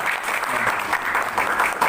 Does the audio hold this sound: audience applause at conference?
yes